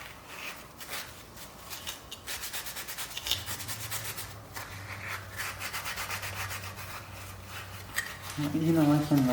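A Scotch-Brite pad scrubs engine parts during a Subaru BRZ engine teardown, making a steady rasping rub with repeated strokes, up close, and a low hum joining partway through and a brief voice near the end.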